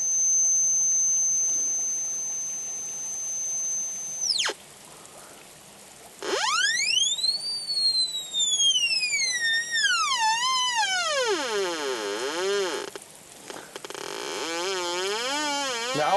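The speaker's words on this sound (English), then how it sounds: "move my interference so that I no longer hear this high-pitched tone" Black Hawk metal detector giving a steady high-pitched sine tone that cuts off, then sweeping, warbling electronic tones rising and falling as its interference and tone settings are adjusted, loud and close with no talk.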